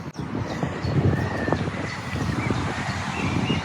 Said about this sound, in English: Sorry about the traffic noise. There is a busy road just the other side of the hedge.